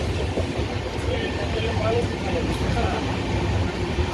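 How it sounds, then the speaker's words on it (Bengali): The Howrah Duronto Express rolls slowly into Kharagpur Junction, a loud, steady rumble of wheels and carriage noise heard from inside the train, with no talk. "ট্রেন এখন আমাদের খড়গপুর জংশন ঢুকছে।"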